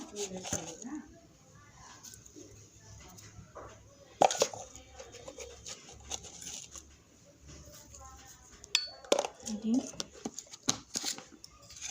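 Mutton pieces are rubbed and mixed with spices by hand in a dish, giving soft wet squelching and patting with a few sharper clicks. Faint voices murmur in the background throughout.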